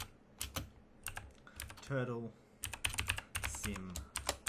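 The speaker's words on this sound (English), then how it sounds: "So to run this, we type ROS run Turtle Sim" Rapid clicking of computer keyboard keys as a ROS command is typed, a close, uneven burst of keystrokes with brief pauses, interrupted by a short stretch of a speaking voice.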